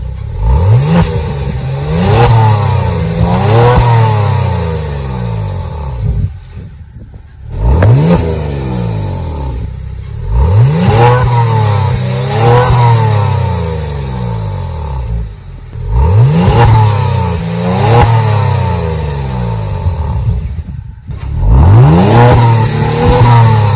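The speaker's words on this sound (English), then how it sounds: "So let's fire up the car and hear how it sounds." A 2022 Kia Stinger GT engine starts and then revs repeatedly, each loud rise and fall of engine pitch separated by brief pauses, heard close up with no talking.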